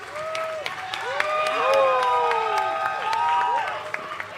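Scattered audience applause at a ceremony honouring the Nigerian president, hosted by the Asantehene, with sparse claps under prominent voices speaking or calling out.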